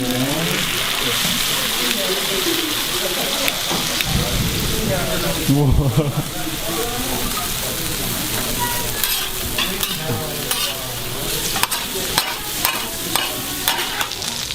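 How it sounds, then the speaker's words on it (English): Korean pork belly sizzles in oil on a hot stone with onions, a dense, steady crackling hiss with stirring scrapes running throughout, close and loud, with faint voices underneath. "it is still sizzling in its oil"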